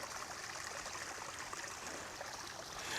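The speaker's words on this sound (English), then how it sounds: "That's one of the louder waterfalls that we're hearing coming down here, and it comes into the pond." A garden waterfall pours steadily into a pond, giving a continuous, close rushing and splashing wash of water that holds an even level throughout with no voices.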